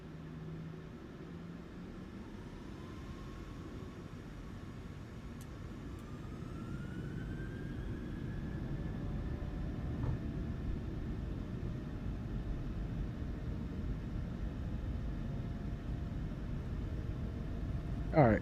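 Boeing 737-800 engines spooling up in MSFS 2024, a steady low rumble with a rising whine that climbs slowly and holds, under quiet background talk.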